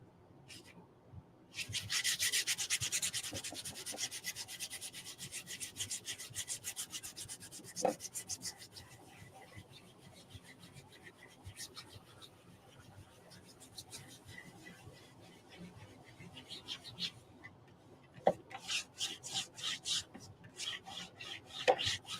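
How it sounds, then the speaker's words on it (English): A surface being rubbed and buffed by hand for chalk couture crafting, steady close scratchy rubbing strokes in long stretches with a few taps, fairly quiet. "So I'm just going to rub it on and try to buff it out."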